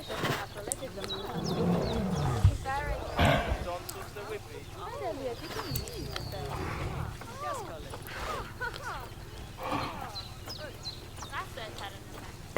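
A Bengal tiger in the Planet Zoo management game gives low growls and roars among zoo ambience, with other animal calls and someone talking over much of it.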